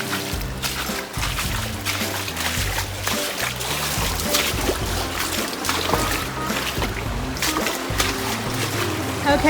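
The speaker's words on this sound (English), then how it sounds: "I think that's 11 waterfalls I've seen" A waterfall on a hiking trail rushes and splashes continuously, a loud, close, churning flow with constant spattering throughout.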